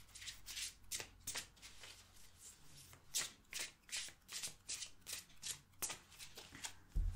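Tarot cards being shuffled by hand, a close, rhythmic run of soft riffling bursts repeating roughly every half second, with no talking.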